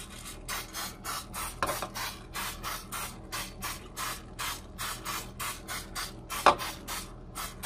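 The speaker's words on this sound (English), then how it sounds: "use some of the non-stick cooking spray" Non-stick cooking spray hisses in a long series of short, rhythmic bursts as it coats a bundt cake pan, close and fairly loud, with a brief clatter partway through.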